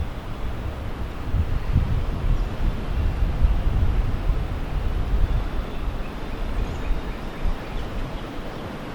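Strong wind on a Kansas turkey hunt roars steadily across the microphone as a heavy, low buffeting rush that swells and eases over several seconds, with no voices present.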